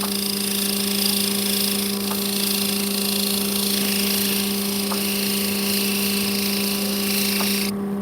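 A struggling electric sander grinds opal stones with a steady, loud droning whine and strong hum, continuous throughout with a few faint clicks and no speech.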